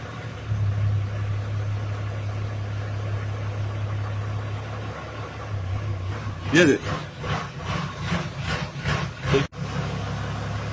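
A Toyota HJ61 sits parked and runs after a cold start, its engine holding a steady low idle hum throughout, while someone talks over it in the second half.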